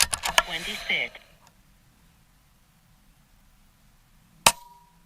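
A custom Air Venturi Avenger .25 airgun fires at steel targets 100 yards away, with several sharp close cracks at the start and another single sharp report near the end, quiet between.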